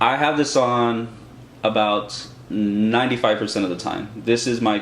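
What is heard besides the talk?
None of the usual background noises is heard.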